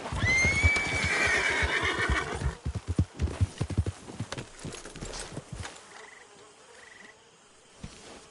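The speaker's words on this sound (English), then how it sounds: "Get that horse out of here." A horse in a PS4 video game gives a loud whinny, then its hooves clip-clop in an uneven series of sharp steps that fade to sparse thuds, with faint insect buzzing in the background.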